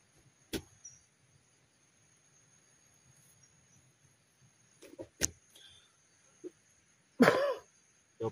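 A few sharp coughs break an otherwise quiet scene, spaced several seconds apart, with a faint steady insect drone underneath.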